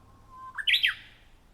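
A Japanese bush warbler (uguisu) sings in a town in spring: a thin, steady whistle rises into a short, bright warbled phrase, heard once and alone at moderate distance.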